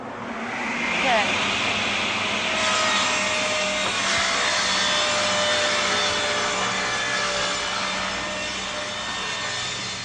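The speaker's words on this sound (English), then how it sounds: "We ripped our piece of stock to the proper width" A table saw rips plywood stock along the fence, a steady loud whine with rising blade tone as the cut starts and a sustained cutting roar throughout, no pause.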